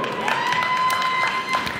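A crowd in a high school gym applauds during player introductions at a Norview versus Massaponax game. The clapping and crowd noise sit under an announcer-like voice, with a steady high tone running through.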